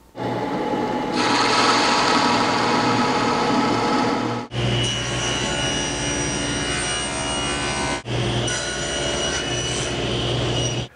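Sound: drill press boring a counterbore in maple

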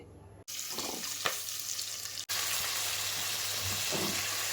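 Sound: fenugreek leaves frying in hot oil

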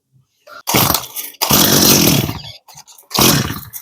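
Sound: chainsaw engine struggling to start

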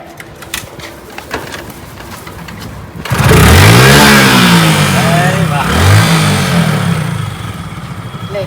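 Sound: motorcycle being kick-started and revving

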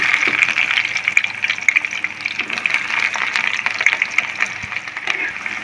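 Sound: chopped onion frying in oil with cumin and mustard seeds

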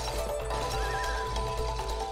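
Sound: horse neighing in video game It Takes Two

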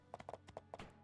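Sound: horse hooves clip-clopping in My Time at Portia video game

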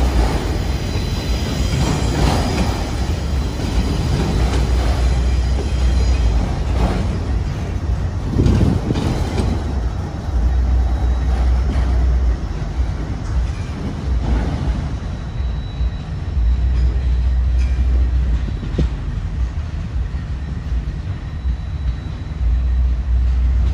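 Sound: freight train with diesel locomotive passing

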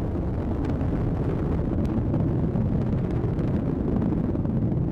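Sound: Atlas V rocket booster engine roaring during launch

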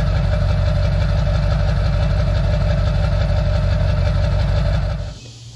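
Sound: diesel truck engine idling through exhaust stacks

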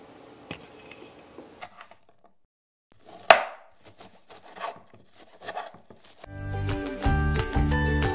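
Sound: knife cutting sweet potatoes into half-inch rounds

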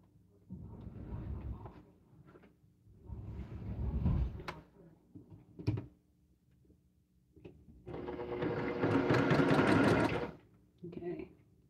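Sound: sewing machine stitching a quilt panel

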